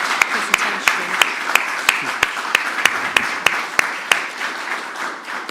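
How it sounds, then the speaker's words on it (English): Audience applause at the close of a lecture presentation, with broadband clapping that steadies into a continuous wash and sharp, individually audible claps cutting through it at a fairly regular rhythm. "Could we please give Mark a very big round of applause for a really useful presentation?"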